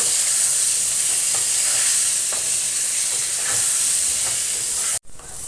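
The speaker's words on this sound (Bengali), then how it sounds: "মাছ ভেজে নেওয়া ওই তেলের মধ্যে আমি বেগুনগুলো ভেজে নেব" Brinjal pieces fry in the oil left from frying fish, giving a loud, steady, dense sizzle close by with no talk, broken by a brief drop near the end before the sizzling resumes.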